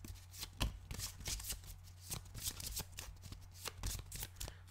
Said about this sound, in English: Don't you love the sound of cards being shuffled?